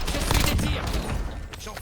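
Rapid bursts of gunfire in the video game Warzone, loud and dense over less than two seconds, with a voice talking over them.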